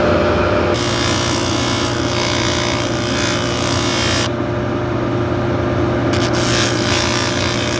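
Steel shanks from Red Wing boots are stripped of rust with a power tool, giving a loud, continuous abrasive grinding and rasping that runs steadily throughout, with a brief tonal shift midway.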